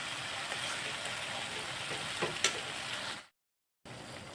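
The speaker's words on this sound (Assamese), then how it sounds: "এতিয়া ভালদৰে মছলাখিনি অলপ লৰাই দি আছোঁ" Masala spices for potol dorma sizzle and crackle as they are stirred and fried in a pan, a steady hiss with small pops, then a brief cut to silence before the frying resumes.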